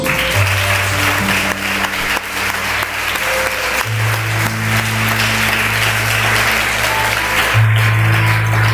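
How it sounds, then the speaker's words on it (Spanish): Steady applause from a congregation at a church revival service in Ecuador, offered to Jesus, continuing at full strength for about nine seconds over a sustained organ-like musical tone. "Pero un aplauso a Jesús"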